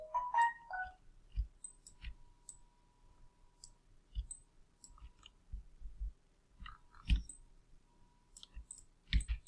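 Computer mouse right-clicks during 3D modeling in Maya, a series of faint, sharp clicks spaced irregularly in a quiet room, with a short electronic tone at the start.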